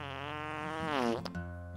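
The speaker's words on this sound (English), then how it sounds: "different fart sounds that it chooses randomly" A synthetic fart sound effect, randomly chosen by an interactive website, gives one continuous buzzy, rasping blurt with a wobbling pitch, loud and close, ending in a short sputter and a brief tail.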